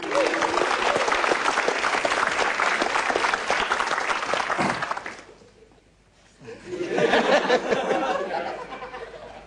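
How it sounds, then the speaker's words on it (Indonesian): Loud audience applause fills a comedy stage show, dense and sustained, dipping briefly to near quiet before a second strong burst of clapping, with faint laughter mixed in. "Beri tepuk tangan untuk Jui."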